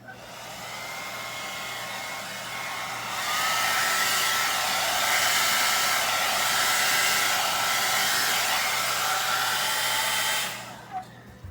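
A hair dryer blows steadily while styling hair treated with a cell activator product, a continuous close airy roar that grows louder partway through, then cuts off near the end.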